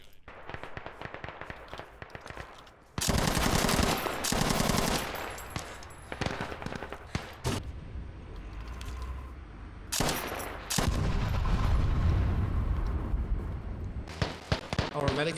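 PKP/PKM machine gun in a shooter game fires in loud, close bursts and short tap-fired strings, with quieter stretches between where a voice talks.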